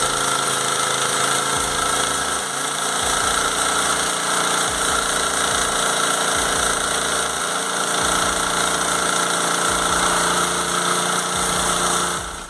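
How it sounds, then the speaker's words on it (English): A homemade mobile sawmill cuts through a log with a steady loud engine drone and a constant buzzing whine, a rough pulsing low rumble running underneath without a break. "Cutting wood with a homemade mobile sawmill isn't just a task, it's an adventure."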